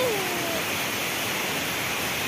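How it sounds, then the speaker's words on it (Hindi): A forest waterfall roars as a steady, broadband rush of falling water, loud and close, with a faint brief tone near the start and no clear talking. "पानी देखो तो पूरा झरणा"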